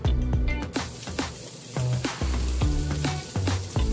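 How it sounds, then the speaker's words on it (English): Eggs and shrimp sauté in a pan, giving a constant close sizzle broken by repeated sharp clinks and scrapes of a utensil stirring against the pan. "We have everything ready here in my pan, ready to saute."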